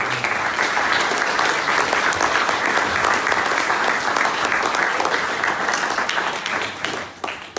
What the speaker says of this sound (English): So a big round of applause to our Byte Night volunteers.